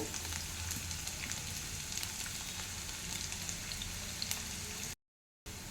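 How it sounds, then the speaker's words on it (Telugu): Onion pieces frying in a pan with mustard seeds and cumin, a soft, steady sizzle with faint crackles, close but quiet, cutting out briefly near the end. "ఇందులోనే కట్ చేసి పెట్టుకున్న ఉల్లిపాయ ముక్కలు కూడా వేసేసుకోవాలి వేసేసుకొని ఇవన్నీ మంచిగా ఫ్రై చేసేసుకోవాలి"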